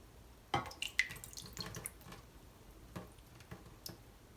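Water is poured into a sauerkraut fermentation crock, heard as scattered splashes and drips with a few sharper knocks, close but quiet, irregular over several seconds.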